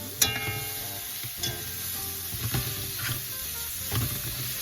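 Food sizzles steadily while sautéing in a pan for Dominican-style spaghetti, a constant close frying hiss with a few soft clicks of stirring and no talking.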